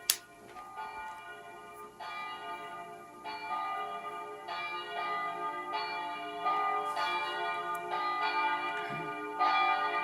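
Church bells from a Verdin 720 digital carillon ring steadily, with repeated bright strikes and long sustained overlapping tones building in level, alone without any talking.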